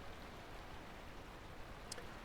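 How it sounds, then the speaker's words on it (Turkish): Steady rain and a rough, churning sea in the video game Lightyear Frontier make a faint, even hiss with no talking. "Bu bölümlük son e, dakikalarımızı yağmur altında dalgalı denizi izlerken geçirelim."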